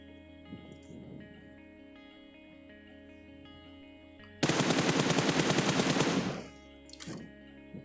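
A rapid burst of automatic rifle fire sprays in PUBG Mobile, loud and continuous for about two seconds, then cuts off. A single shot follows after a quiet stretch of faint ambient hum and scattered footsteps.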